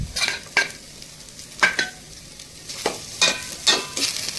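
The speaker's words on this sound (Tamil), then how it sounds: "அதை போட்டு நல்லா மிக்ஸ் பண்ணிக்க வேண்டியதான்" Chicken curry (kozhi kari kulambu) with coriander stems stirred in a pan: repeated bursts of spatula scraping over a soft background sizzle, close and uneven in rhythm, no speech.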